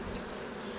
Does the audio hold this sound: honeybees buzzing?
yes